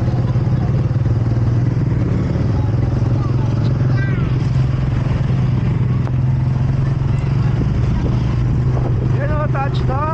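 Motorcycle engine on the ride to Hulugan Falls in Luisiana, Laguna: a steady, loud low drone running throughout, with voices talking over it.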